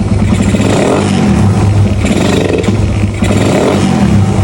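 A Raider 150 motorcycle idles after a carburetor adjustment, its engine running loud and close with a steady, even rumble and light mechanical clatter, held at a constant pace throughout.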